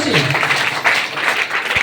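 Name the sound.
audience applause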